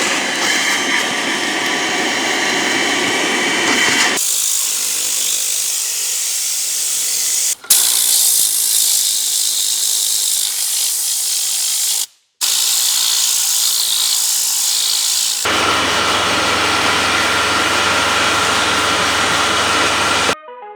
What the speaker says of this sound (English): So first we're gonna do the vacuuming part for the most sand or stones.